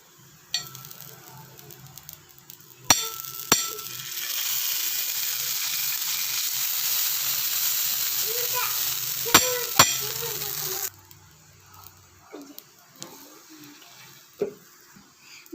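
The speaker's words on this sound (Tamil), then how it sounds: "பிரெட் எடுத்து இப்போ நாங்கள் தவாவில் போட்டாச்சு." Bread sizzling in butter on a hot tawa, a loud steady frying hiss for several seconds, with clinks and scrapes of a utensil before and after, quieting to sparse taps at the end.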